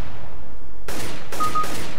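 Loud, sharp bursts of Counter-Strike: Global Offensive gunfire, a few rapid shots cracking after a brief lull, close and harsh.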